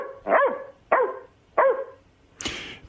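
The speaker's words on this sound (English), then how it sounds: "only one bark." A female dog in a studio gives three sharp, evenly spaced barks followed by a higher, thinner yelp, loud and close with no talking over them.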